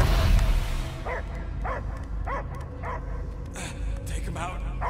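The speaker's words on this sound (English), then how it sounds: "I hear only barking." Dog barking in the Guardians of the Galaxy video game: a run of about five evenly spaced barks at mid distance, set over a low game-score rumble and background ambience.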